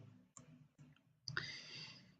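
A few quiet, close mouse clicks at a computer while selecting Browse for Path in LabVIEW, spaced apart over soft room hiss, no speech.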